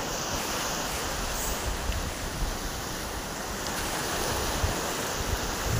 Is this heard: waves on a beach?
yes